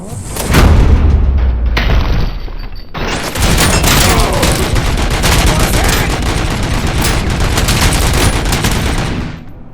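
Turret gunfire in RoboCop: Rogue City, loud rapid bursts of automatic shots and booms nearly continuous for about ten seconds, close and heavy.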